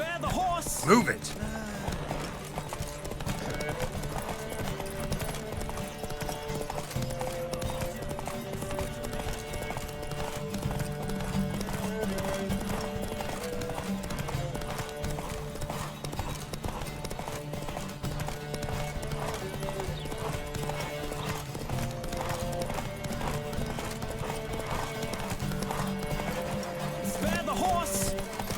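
Rapid, rhythmic hoofbeats of galloping horses clatter continuously in the video game The Witcher 3: Wild Hunt, with occasional voices and a neigh mixed in.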